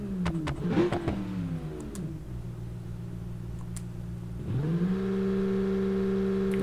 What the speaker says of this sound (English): trans brake burnout for the win, for the finish here